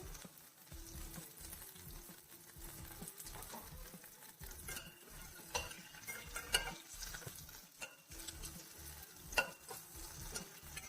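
Tamarind and banana stem being sautéed in a pan make a faint, soft sizzle under repeated scraping and clinking from a spoon stirring against the pan, with occasional louder knocks.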